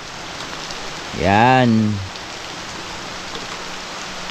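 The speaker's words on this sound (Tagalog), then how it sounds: "lumakas yung ulan." Heavy rain pouring steadily over a rural pumpkin patch, a broad constant hiss that runs throughout, with one brief spoken word cutting in near the start.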